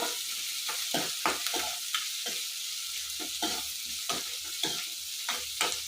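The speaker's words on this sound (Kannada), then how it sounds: "ಈರುಳ್ಳಿನ ಹಾಕ್ಕೊತೀನಿ. ಈರುಳ್ಳಿ ಎಲ್ಲ ಉದ್ದುದ್ದಕ್ಕೆ ಹೆಚ್ಕೊಂಡಿದ್ದೀನಿ ನಾನು" Onions sliced lengthwise fry with curry leaves in a pan for mint rice, a low steady sizzle broken by repeated scraping strokes of a spoon stirring at an irregular rhythm.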